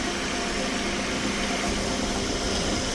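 A second-generation Honda CR-V engine idles after repair, a steady, even rumble heard close up with no voices.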